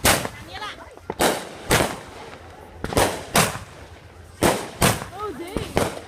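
Fourth of July fireworks burst one after another in sharp, booming cracks, about eight or nine over six seconds, with excited voices reacting between the blasts.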